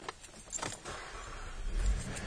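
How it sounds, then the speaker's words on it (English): A car engine cranking and catching right after a sensor replacement, with a brief jangle of keys followed by a steady, close engine hum. "we can hear the car starts immediately right up"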